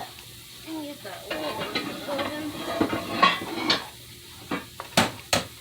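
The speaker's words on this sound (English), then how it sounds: "you keep that stirring" Camp beans are stirred in a pot, a spoon scraping and knocking against the metal in an uneven rhythm, with a few sharper clinks near the end and faint voices in the background.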